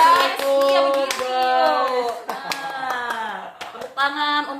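Scattered hand claps from a small audience at a casual podcast chat break out in a handful of sharp bursts, mixed under voices speaking over them.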